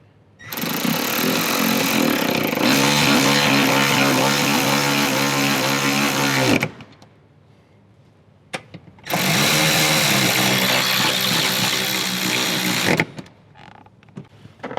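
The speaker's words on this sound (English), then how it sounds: "Now we can tighten up our front seat bolts. So again, our 14mm socket." Ratcheting and whirring of a 14mm socket tightening the front seat bolts in a Toyota 4Runner, two long loud continuous bursts of about six and four seconds separated by a brief pause, with small clicks after.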